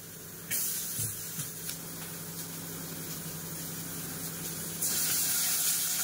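Onions dropped into hot oil in a pan for egg burji, giving a steady loud sizzling hiss that jumps in intensity near the end, with no talking.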